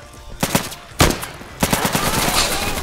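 Gunfire in the tactical shooter Insurgency: loud, close bursts of rapid automatic fire, a few isolated shots first and then a sustained rattling volley.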